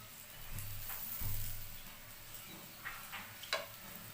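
Egg-and-flour bread frying in a pan brushed with ghee after being flipped, giving a quiet, steady sizzle with a brief louder burst near the start and a few soft clicks of a utensil.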